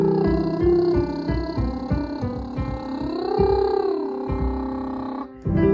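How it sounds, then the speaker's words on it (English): A voice performs a buzzing lip trill, a fluttering sustained tone that holds, glides up and back down, then stops. "On a lip buzz or a lip trill"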